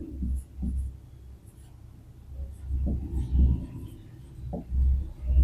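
Pen writing on paper in short strokes and scratches at close range, starting and stopping irregularly over a quiet background, with no talking.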